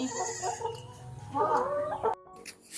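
A backyard chicken clucks close by in a short burst of rising, throaty calls, loud against a quiet background before a brief pause and a final faint cluck.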